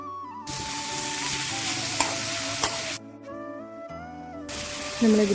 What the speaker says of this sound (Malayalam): സവാള ഇട്ടിട്ട് നന്നായിട്ട് വഴറ്റിയെടുക്കാം